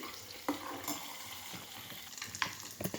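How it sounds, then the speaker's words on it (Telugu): Ghee heats and fries in a pan on the stove, a soft, quiet sizzle with a few faint pops and stirring scrapes. "నెయ్యి కాగుతుంది."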